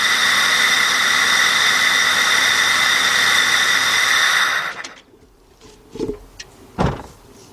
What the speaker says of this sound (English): all the air you heard is because our air cleaner is off. The engine's sucking down air.